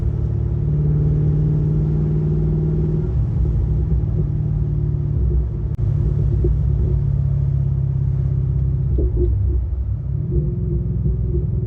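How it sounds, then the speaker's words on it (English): A C5 Corvette engine fitted with a VARARAM VR-B2 intake rumbles steadily and loudly up close, a deep continuous low drone with slight shifts in pitch as it idles and cruises, no voices over it. "The car sounds so good."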